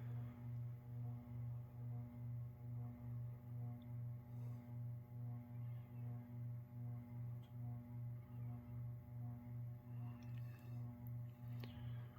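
A steady low electric motor hum from a Hampton Bay Grayton II ceiling fan drones continuously with a faint pulsing rhythm, fairly quiet, with a few light clicks near the end.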